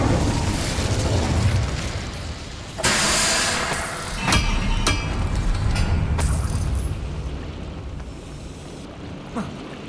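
Incendio fire spell cast in Hogwarts Legacy on PS5, a sudden whooshing burst of flame followed by crackling bursts and pops over a rumbling game background.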